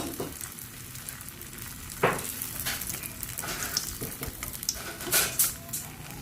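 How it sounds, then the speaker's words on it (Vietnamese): Steady close sizzling of tofu skin frying in hot oil, with occasional clinks of a utensil against the pan. "Các bạn chiên như vậy cho đến hết những cái miếng tàu hũ của mình nha."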